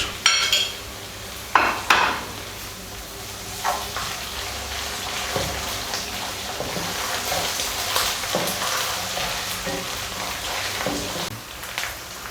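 Ginger-garlic paste hits a hot pan for dhaba-style aloo anday ka salan, sizzling steadily with a few clinks of a spoon against the pan at the start and scattered stirring sounds throughout.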